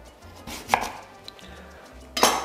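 Potato and sweet potato are chopped on a board for a salad: a few sharp, close knife strikes, irregularly spaced with quiet gaps between them, the final cut the loudest.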